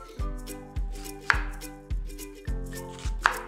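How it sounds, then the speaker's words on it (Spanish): A knife chops an onion into julienne strips on a cutting board. About six evenly spaced, crisp thuds come close up, each with a short sharp slicing edge, and no voices are heard. "Vamos a comenzar partiendo nuestra cebolla en julianas."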